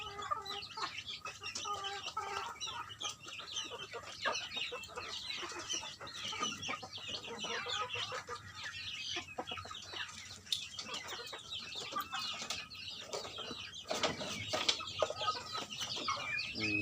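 Young chicks cluck and chatter continuously in a lively flock on a farm, with a few louder squawks and brief wing flaps, close by and busy throughout.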